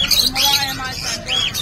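Small Gouldian finches chirp at a bustling pet market in Bocaue, quick high tweets repeating close by over a busy background with voices.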